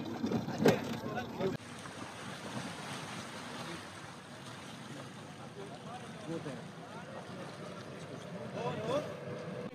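A rescue boat out at sea in the central Mediterranean during a refugee rescue, with a low rumbling engine and wash of waves and wind noise, a louder knock near the start, and people talking in the background.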